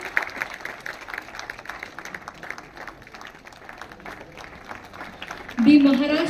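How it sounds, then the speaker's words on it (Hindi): An audience at a cooperative bank diamond jubilee ceremony claps at a moderate distance, steady scattered applause that continues until a voice rises over it near the end. "देवी और सज्जनों जोरदार तालियां"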